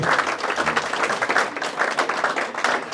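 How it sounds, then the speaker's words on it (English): A club audience applauds steadily, many hands clapping together in a dense, sustained wash of sound. "give them a big round of applause"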